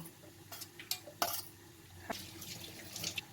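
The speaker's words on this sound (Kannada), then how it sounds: "ಈಗ ನೀರು ಆ್ಯಡ್ ಮಾಡ್ತಾಯಿದ್ದೀನಿ, 1 ಕಪ್ಪು." A cup of water is poured into rava dosa batter, giving faint splashes and a few sharp clinks from the vessel, with a soft running-water wash in between.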